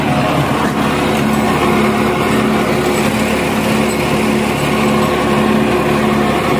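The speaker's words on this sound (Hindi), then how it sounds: "फर्स्ट लो में चल रहा है, पहले के लो गेयर में चल रहा है ये 10 फीटा रूटावेटर के साथ।" A New Holland 3510 tractor with a three-cylinder engine runs in first low gear while pulling a 10-foot rotavator, a loud continuous engine drone with a steady hum and no breaks.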